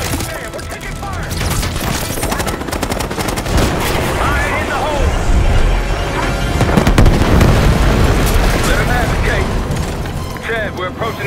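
Explosions and gunfire in the Call of Duty: Black Ops 6 video game during a PC mission, loud, continuous booms and crackling shots that fill the scene, with voices talking over the combat.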